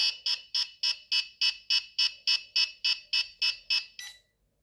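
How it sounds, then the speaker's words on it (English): An AMEWI Air Trainer V2 RC transmitter powers up with a rapid series of about fourteen evenly spaced high-pitched electronic beeps, ending in one slightly longer tone before silence. "It will beep for a few seconds, then connect to the aircraft"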